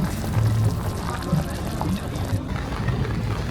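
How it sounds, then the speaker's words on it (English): A steaming pot of spicy broth bubbles and gurgles with a steady, liquid churning, fairly close, at a Taiwanese hot pot meal, with faint murmuring in the background. "diving into a steaming, bubbling pot of spicy broth"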